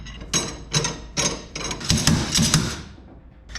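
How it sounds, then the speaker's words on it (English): A slide hammer pulls a Volkswagen axle out of its bearing, giving several sharp metallic knocks in a steady rhythm, then a run of closer rapid clanks before the noise fades, loud and close with no talking. "Then you just take the slide hammer."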